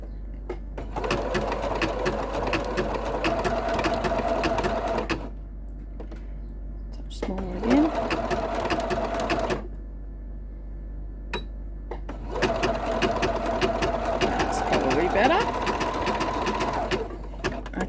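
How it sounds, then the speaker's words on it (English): Sewing machine running a blanket stitch on a mug rug: three long bursts of fast, steady mechanical whirring, separated by short pauses, close and loud over a constant low hum. "you can see here that I have just got stitched a blanket stitch"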